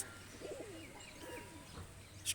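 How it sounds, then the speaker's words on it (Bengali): A pair of Omani-bloodline high-flyer pigeons, male and female, give soft, low cooing calls in quiet surroundings, with a brief faint chirp near the end. "এটা হলো মাদি কবুতর আর এটা হলো নর কবুতর"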